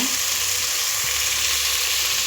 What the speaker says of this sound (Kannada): ಟೊಮೆಟೊ ಹಣ್ಣನ್ನು ಕೂಡ ಚೆನ್ನಾಗಿ ಬಾಡಿಸ್ಕೊಳ್ಳೋಣ